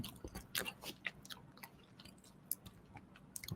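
Crispy french fries dipped in chili and tomato sauce are chewed close to the mic, with soft crunchy bites and wet chewing in an irregular rhythm, quiet and isolated.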